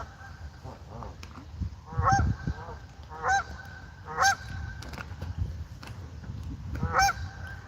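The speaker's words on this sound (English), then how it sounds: "Geesey geese." Geese honking in a repeated series of loud, nasal calls spaced about a second apart, standing out over low background rumble and faint noise.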